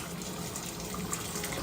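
Hot tap water runs steadily over a football cleat held submerged in a filling sink or tub, giving a continuous close, moderate rushing and splashing with no talking.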